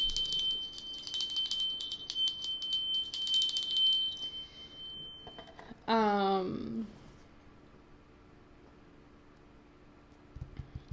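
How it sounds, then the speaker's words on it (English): A hand bell rings during a spiritual cleansing reading with smoke, giving bright, sustained, shimmering tones for several seconds before cutting off, followed by a brief sweeping sound and then quiet. "I'm going to ring the bell real quick."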